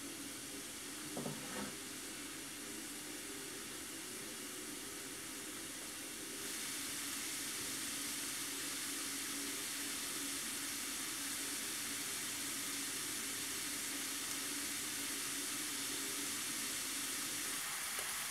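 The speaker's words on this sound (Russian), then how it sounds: "Морковку и лук мама перемешивает на сковороде и обжаривает на подсолнечном масле." Steady sizzling of carrots and onion frying in sunflower oil in a pan, continuous and close, with a brief clatter of stirring early on and the sizzle growing slightly louder midway.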